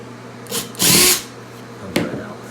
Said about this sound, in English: First thing you want to do is you have a screw gun.